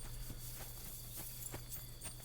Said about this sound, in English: What about this horse?